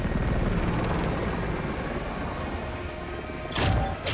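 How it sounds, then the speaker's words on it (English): Helicopter in the Call of Duty Warzone 2 video game, a loud, steady rotor and engine roar that continues throughout, with a brief louder burst near the end. "Helicopter."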